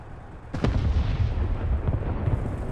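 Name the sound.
artillery fire heard from inside a tank, War Thunder video game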